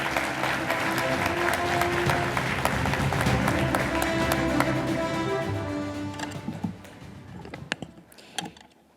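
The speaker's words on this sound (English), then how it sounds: "Please give her a warm applause." Sustained audience applause fills the hall at the closing ceremony of the International Astronautical Congress 2025, a dense, steady clatter of many hands that gradually thins and tapers off near the end.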